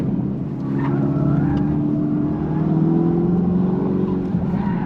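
A Dodge Charger Daytona Scat Pack braking hard on a racing school track, heard as a loud, sustained droning tone that shifts slightly in pitch, with no talking.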